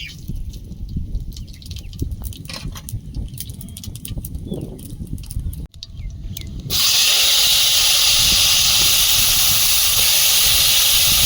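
Bay leaf and whole cumin hit hot oil in a kadai, bursting into a loud, steady sizzle after a quieter stretch of kitchen background noise.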